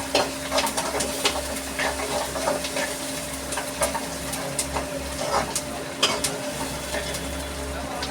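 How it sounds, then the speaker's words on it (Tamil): Onion with ginger garlic paste sautéing in a pan for a shankhu (conch) curry, a steady close sizzle with occasional stirring clicks from a utensil throughout. "வெங்காயம் வதங்கினோடனே நம்ம இஞ்சி பூண்டு சேர்த்துக்கலாம்."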